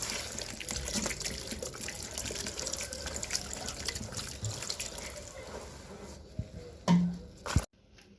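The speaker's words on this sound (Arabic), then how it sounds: "وعاد غادي تضيف ايطرو ديال الماء" Water poured into a bowl of fekkas dough made with ordinary flour, a steady liquid trickle running for several seconds with a brief louder splash near the end, then silence.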